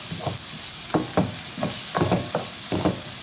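Small pieces of boiled duck frying in a pan, a steady sizzle broken by several crisp stirring and scraping knocks of a utensil at uneven intervals, close and moderate with no talk.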